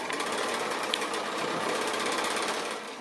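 Sewing machine running steadily for about three seconds as it stitches a foundation pieced quilt block, a continuous close, even motor whir and needle chatter before slowing at the end.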